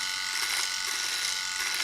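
A Skull Shaver trimmer runs with a steady, close electric buzzing hum, continuous and even with no speech.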